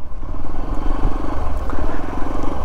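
A motorcycle ridden at about 12,500 feet in the high mountains of Mustang, Nepal, gives a steady, loud engine rumble close by, with some wind and road clatter mixed in.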